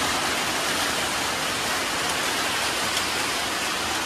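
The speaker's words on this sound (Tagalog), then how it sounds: "Lakas sa ulan, oy." Heavy rain pours down steadily, a dense, unbroken hiss of water drumming on surfaces, loud and constant with no other sounds.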